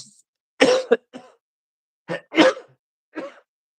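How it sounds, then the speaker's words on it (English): Several short, dry coughs in two bursts separated by a pause, close and fairly loud, followed by a softer single cough. "Sorry, guys, I have a dry cough."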